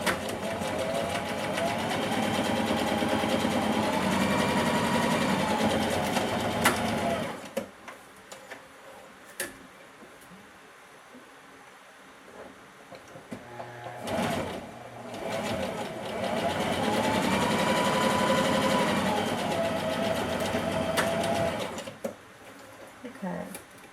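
A sewing machine stitches a fabric seam for a bodice in two long, steady whirring runs, with a quieter gap between them filled by handling noises and some talking.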